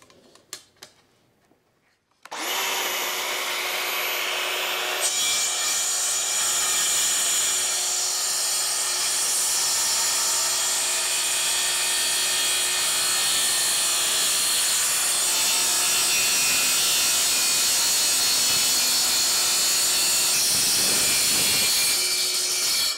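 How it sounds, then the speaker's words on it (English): A saw cuts through laminated wood for a DIY desk with a loud, steady, droning rasp. It begins abruptly after a quiet start and runs without pause for about twenty seconds, with no voices. "run the saw on really critical part cuts"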